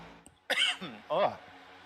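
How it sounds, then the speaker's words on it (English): A person clears their throat with a short rough vocal rasp, followed by a second gravelly burst, close and moderately loud. "I just got to clear my throat"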